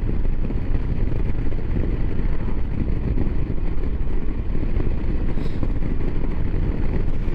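Royal Enfield Himalayan motorcycle cruising at 90 km/h at just over 4,000 rpm, a steady loud engine drone blended with heavy wind rush, continuous and close throughout with no talk.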